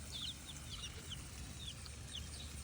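Small bantam chickens cluck softly in an outdoor pen amid steady background noise, giving short faint calls at intervals.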